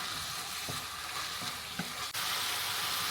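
Tomato frying in a pan for a ridge gourd curry, a soft, even sizzle with faint stirring scrapes, quiet and continuous, no one speaking.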